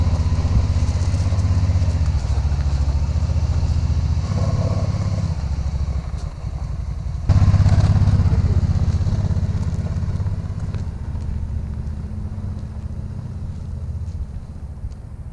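A Can-Am Spyder three-wheeled motorcycle's engine rumbles steadily and loudly throughout, a low droning tone that surges once partway through as the machine pulls away.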